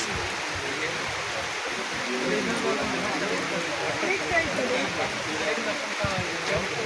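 Heavy rain pours down in the Sundarbans while travelling through it, a dense continuous roar like rushing water, loud and unbroken, with faint voices mixed underneath.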